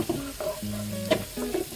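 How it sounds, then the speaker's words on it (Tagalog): Sauce for buffalo wings sizzles in a pan while being stirred, with soft scraping strokes and a gentle frying hiss, close and without talk. "wag niyong tigilan sa paghalo kasi madaling masunog yan"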